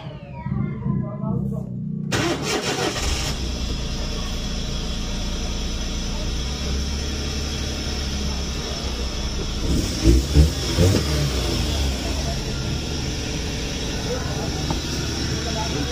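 A Suzuki DA64V van engine, recently flood-damaged and repaired with a new spark plug, catches after a short crank and settles into a loud, continuous idle with rough surges partway through while someone talks over it.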